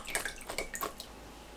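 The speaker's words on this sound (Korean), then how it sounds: "꺼내서 바로 찬물에 헹궈주세요." Water splashes and drips briefly under a running cold stream as blanched broccoli is rinsed, a few light wet taps close by, then trails off.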